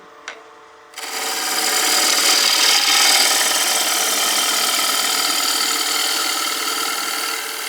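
A large bowl gouge roughing a bowl blank and its tenon on a wood lathe starts after a brief tap and becomes a loud, continuous scraping cut that holds steady at close range for the rest of the clip, with no voices.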